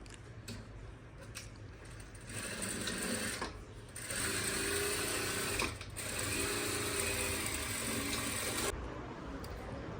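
A sewing machine stitches a blouse, running close and steady for about ten seconds with a continuous whirring rattle, briefly pausing and restarting twice before slowing toward the end.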